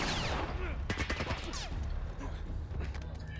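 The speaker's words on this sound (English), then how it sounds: "It's called a machine gun, Ellie." Machine gun fire in The Last of Us, a cluster of rapid, moderately loud shots mixed into busy game sound, with voices speaking over it.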